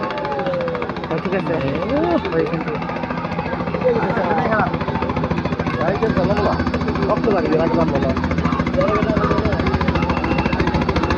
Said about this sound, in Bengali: গাইস দেখুন হেলিকপ্টার আমাদের মাঝে ল্যান্ড করছে।